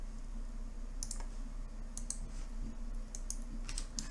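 Computer mouse clicks while selecting shapes in Inkscape, faint sharp clicks in small clusters over a low steady hum, no voices.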